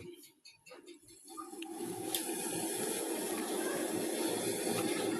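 A kettle heats water for tea indoors in a Bangladeshi home. A soft, steady hiss swells in after a second or so and holds at a constant level, with faint background sounds.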